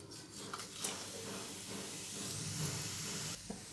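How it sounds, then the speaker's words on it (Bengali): Whole spices, black and green cardamom, cinnamon, cumin and bay leaves, hit hot oil for tempering, producing a faint, even hiss and soft sizzle with a few small crackles, steady for several seconds before easing. "দুটো বড় এলাচ দুটো ছোট এলাচ একটু দারচিনি হাফ চামচ জিরে আর দুটো তেজপাতা এগুলো দিয়ে দিচ্ছি"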